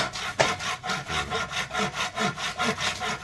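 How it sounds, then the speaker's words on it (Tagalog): A dulled hand saw rasping through bamboo in steady back-and-forth strokes, about ten regular pulls, close up. "Medyo pumurol na yung ano, lagari ni Sir Joseph."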